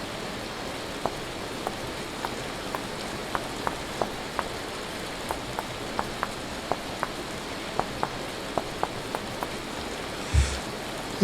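Steady summer rain pours in the video game Vintage Story, a dense hiss of falling water with sharp droplet ticks scattered throughout and a brief thump near the end.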